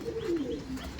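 A pigeon, a black-spotted female held close by hand, gives a soft, low rolling coo in a single brief phrase, near and gentle against a quiet background.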